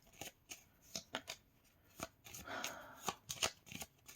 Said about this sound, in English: let me just pull the cards